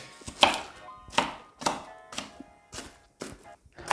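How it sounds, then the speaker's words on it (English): A knife chops an onion on a cutting board in about seven steady, evenly spaced, fairly crisp strokes, close up with no voices. "Having diced, spliced and thoroughly ruined my onions"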